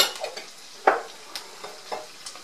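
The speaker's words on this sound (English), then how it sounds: "So I'm going to let that saute for a little bit." Onions and peppers sautéing in a pan for Spanish rice give a soft, intermittent sizzle, broken by a few sharp stirring clicks and scrapes close by.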